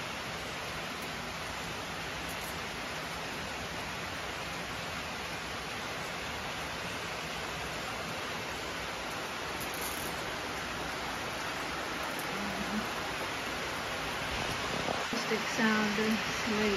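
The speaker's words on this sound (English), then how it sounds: "least we're getting some good rain" Steady rain falling over a garden, a dense even hiss that fills the whole stretch, close and unbroken, with a few faint knocks near the end.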